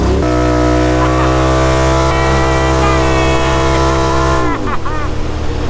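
Loud, droning exhaust from a DDG43 car with its exhaust valve open, a strong steady harmonic tone holding for several seconds before revving down into a rougher rumble.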